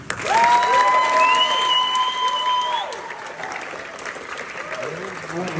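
A small crowd applauds at a benefit concert, steady clapping and some cheering swelling then easing over several seconds, with feedback tones ringing and voices mixed in.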